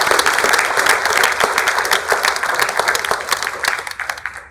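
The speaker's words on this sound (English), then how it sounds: "Let's give all the local candidates another round of applause." Applause for local candidates at a county Republican candidate forum fills the hall, a dense steady roar of many hands clapping at close range that thins and fades toward the end, with no talk over it.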